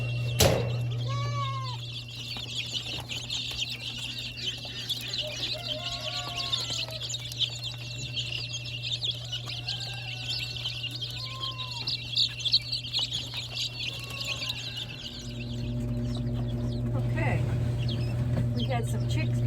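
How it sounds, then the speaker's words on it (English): Newly hatched chicks peep in high, repeated chirps near the food, joined by some clucking, over a steady low hum and a constant high whine. "Had some chicks born last night"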